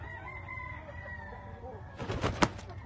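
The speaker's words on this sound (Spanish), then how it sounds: "el gallito es un Kelso doble derecha también" Kelso rooster crowing on a farm, a single loud crow rising abruptly near the end over a quieter background of clucking and other birds.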